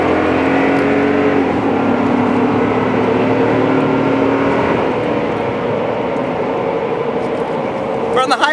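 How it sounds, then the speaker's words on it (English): A 381-horsepower Toyota Tundra Limited 4x4 pickup accelerates hard, its engine roaring steadily and close throughout, with someone talking over it. "381 horsepower, this is a very fast truck and very potent, as you'll see right here."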